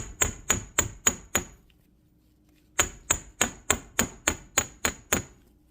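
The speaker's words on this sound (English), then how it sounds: "take the flat part of your hammer and work hard in it, and it also flattens the 8" A hammer strikes a wire bead frame pendant to flatten and work-harden it, giving sharp metallic taps in two even runs of about five and eight blows, separated by a short pause.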